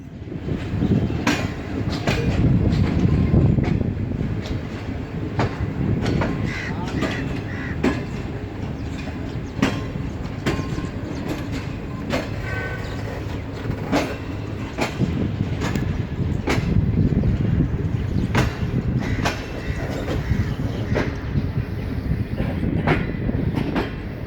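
A Green Line Express passenger train pulls into Lahore station, a steady rumble of rolling wagons with faint clickety-clack over the rails and crows cawing around the yard.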